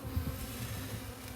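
Honeybees in a hive on a cold, cloudy day give off a brief, low, steady buzzing drone, close by and unbroken, with no voices.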